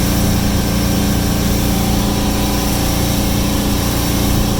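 A 2011 Sea Ray SLX 270 boat's engine runs hard at about 3,400 RPM while cruising near 28 mph on Puget Sound, a loud, constant roar with wind and water rush throughout and no talk.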